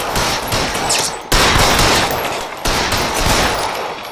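Gunfire in the video game L.A. Noire: a sustained barrage of loud shots fills the whole stretch, with two sharp fresh bursts breaking in partway through, no voices present.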